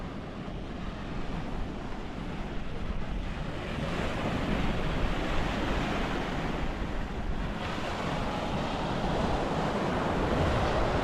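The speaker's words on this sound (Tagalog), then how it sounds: "Medyo maalon." Rough sea off a Palawan island coast, waves rolling and breaking in a broad continuous roar with gusty wind buffeting the microphone, steady and fairly loud with no voices.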